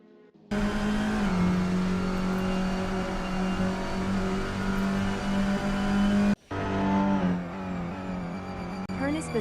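A touring race car in a sim racing series roars at high revs, holding a loud steady engine note, briefly cutting out, then revving again with shifting pitch; no voices are audible over it.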